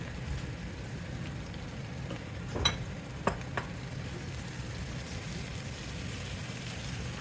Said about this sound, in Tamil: இஞ்சி பூண்டு 1 நிமிஷம் வதக்கிட்டு பிரசல்ஸ் ஸ்ப்ரவுட்டையும் அதோட சேர்த்துடலாம்